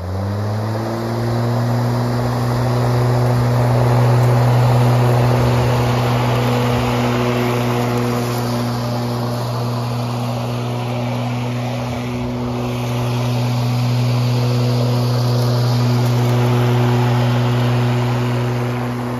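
Greenworks corded electric lawnmower running on a lawn, a steady loud motor whine with its pitch dipping slightly as it works through grass, no talking.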